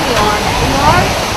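A waterfall pours down hard at a hometown tourist stop, a loud, steady roaring rush of falling water filling the short moment with a dense, continuous wash.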